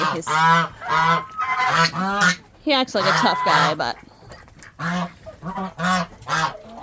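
Geese honk loudly and close by in several harsh bursts, with a person talking in between the calls.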